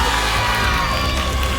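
A school debate audience applauds and cheers for the GMDH State College team, giving a dense, steady wash of clapping mixed with shouts and whoops from a large crowd, loud and unbroken throughout.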